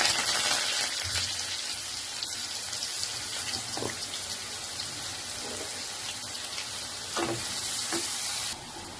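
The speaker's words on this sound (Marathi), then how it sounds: "कांदा बघा फ्राय झालेला आहे" Chopped onion frying in oil with cumin, asafoetida and fresh curry leaves for a sprouted val bean curry, a steady, fairly loud sizzle with occasional stirring scrapes and no talking.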